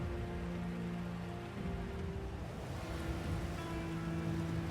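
Rain heard from inside a house, a steady, dense hiss that holds at an even level throughout, with faint low tones humming beneath it and no one speaking.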